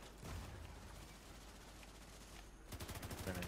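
Gunfire in the video game Fortnite: a faint, muffled stretch of distant shooting gives way to a rapid, closer burst of automatic fire at the end.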